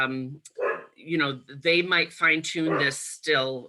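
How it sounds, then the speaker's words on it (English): A dog barks in the background of a farm-workers discussion, several bow-wow barks and yips mixed under a continuous, close speaking voice. "sorry for the barking dog in the background"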